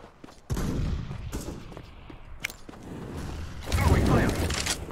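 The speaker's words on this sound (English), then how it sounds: "I'm throwing a grenade." Grenade thrown and exploding in the shooter game CS:GO, a sudden loud blast near the half-second mark followed by rumbling gunfire-like bursts and a second swelling burst of explosive noise toward the end.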